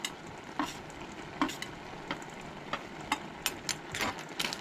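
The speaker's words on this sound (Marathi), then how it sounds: "बरें सगळें मिक्स करून घेवपाचें" Clam sukha, a Goan seafood dish with turmeric, is stirred and mixed in a pan. A spoon scrapes in repeated close strokes over a steady low sizzle, with no talking.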